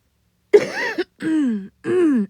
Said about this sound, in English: Should stop the recording to cough